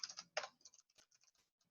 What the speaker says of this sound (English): you can go in and you can respond directly on the tool just by typing